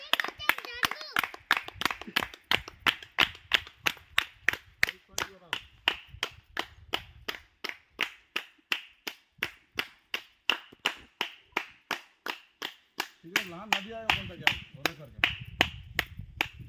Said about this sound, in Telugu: చూసారా ఎంత స్పీడ్గా ఎంత గట్టిగా చప్పట్లు కొడితే అంత బుడగలుగా పైకి వస్తున్నాయి నీళ్ళు